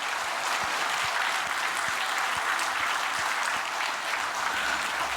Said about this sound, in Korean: 우리 하나님께 감사와 영광의 박수를 올려드리십시다.